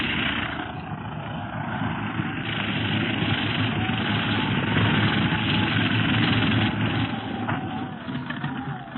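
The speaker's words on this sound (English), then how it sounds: "The plane is landing." A landing plane's engine idles with a steady, rumbling drone that stays constant and fairly loud throughout, with no talking.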